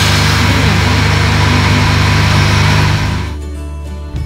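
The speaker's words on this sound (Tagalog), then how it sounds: "Maganda yung tunog ng engine guys." A new Honda car's engine idles steadily just after starting, a loud continuous close-up hum that drops in level near the end.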